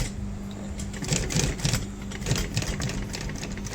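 Sewing machine stitching a car seat upholstery seam in a car interior repair shop, a steady rapid mechanical chatter of needle strokes running throughout at close range.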